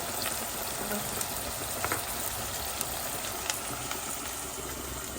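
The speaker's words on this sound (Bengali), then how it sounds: "ভালো করে মশলাটা কষিয়ে নিতে হবে" Chili and coriander powder spices frying in a pan for a radish curry make a steady, even sizzling hiss, moderately loud and close, with a few faint clicks and no voices.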